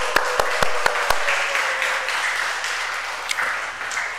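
A church congregation at a Sunday worship service welcomes someone with dense, sustained applause and cheering, with sharp individual claps standing out near the start and again toward the end, with no talking.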